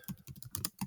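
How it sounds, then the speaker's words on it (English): A computer keyboard clacks under quick typing, several crisp keystrokes in a brief close burst with no speech. "we're going to type WordPress"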